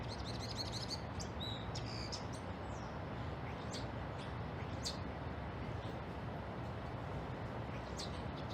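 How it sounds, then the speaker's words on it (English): Birds calling outdoors, giving faint, short chirps and tweets that come and go over a loud, steady rumbling background noise. "Listen to the noises they make. They may tell us what kind of birds they are."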